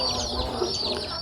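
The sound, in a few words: chicken chicks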